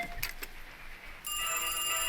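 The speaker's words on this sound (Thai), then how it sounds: "โทรศัพท์ดัง" A telephone starts ringing indoors on a rainy night, a sudden steady electronic ring tone that cuts in and holds loud and unbroken after a moment of quiet, with no voices.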